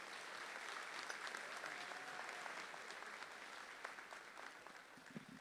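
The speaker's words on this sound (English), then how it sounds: "A round of applause, please, for Dr." Sustained audience applause at an evening college commencement ceremony, a dense steady patter of many hands clapping throughout, moderately distant in a large hall, with no talk over it.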